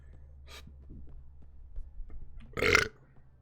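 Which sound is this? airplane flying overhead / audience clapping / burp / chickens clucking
burp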